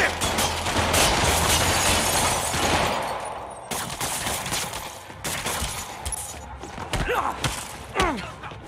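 Gunfire aimed at Spider-Man in the Marvel's Spider-Man Remastered game: loud, dense volleys of shots and impacts that thin out into scattered bangs and thuds, with a brief voice among the chaos.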